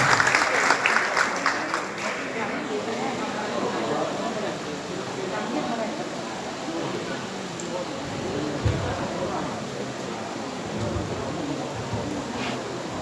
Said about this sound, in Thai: แล้วก็เสียงปรบมือด้วยครับ